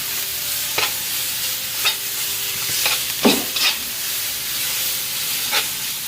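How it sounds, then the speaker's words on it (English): Curry mixture being stirred in a wok, with a steady close sizzle of frying and a few sharp utensil scrapes spaced a second or so apart. "Next we're just going to add the mixture to the wok."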